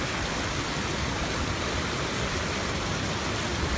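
Floodwater rushes down a spillway in a steady, dense roar that holds a constant level throughout, with no other sounds standing out.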